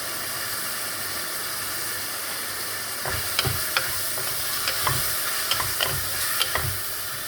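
Green chillies sizzle in hot oil with turmeric while being stirred in a pan for a no-onion, no-garlic dal; steady frying hiss runs throughout, joined after a few seconds by repeated clinking scrapes of the spoon.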